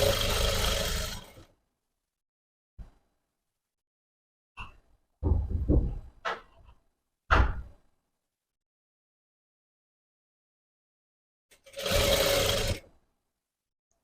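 A domestic sewing machine stitching a quarter-inch churidar zip seam: two short bursts of rapid, buzzing stitching at the start and end, with quiet clicks and fabric handling in between.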